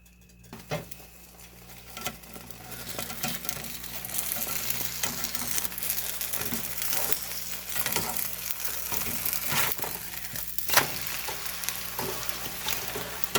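An egg fries in a pan for a bacon, egg and cheese quesadilla, sizzling steadily and growing louder, with scattered clinks and scrapes of a utensil against the pan and no talk.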